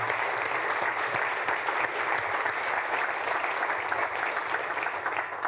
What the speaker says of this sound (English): we should give Harvey and the rest of the organizing committee another round of applause for such a